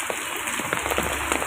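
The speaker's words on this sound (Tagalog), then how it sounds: "Lakas ng ulan" Dense rain patters hard and continuously on surfaces nearby, a steady wash of drops with no voices.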